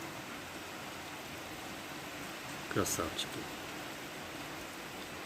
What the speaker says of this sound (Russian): А дождь идет.